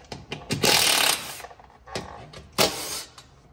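Bolts coming out of the skid plate on a CFMOTO ZFORCE 950 H.O. EX side-by-side, two loud bursts of an impact driver rattling away with short mechanical clicks between, close by and without speech.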